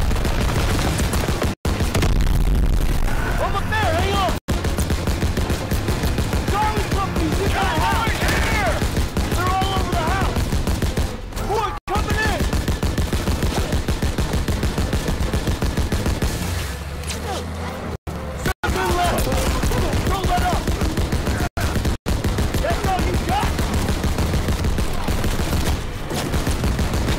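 Gunfire rattles through a World War II battle in Call of Duty WW2, with dense volleys and bursts under shouted voices and battle noise, broken by several brief dropouts.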